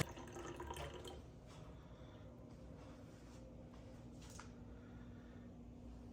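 Faint running water trickles and splashes steadily as dry-brined Alaska king salmon fillets are rinsed under a tap, a soft continuous wash with small drips.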